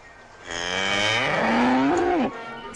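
A cow moos once, long and loud, the call rising and bending in pitch before cutting off, heard alone and up close.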